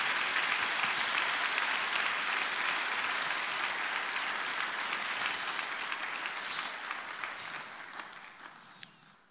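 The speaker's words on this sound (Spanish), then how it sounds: "Dele un aplauso a Él en esta preciosa hora" Sustained applause from a church congregation at a Sunday school service, thick clapping that gradually thins and fades toward the end, with a few last scattered claps.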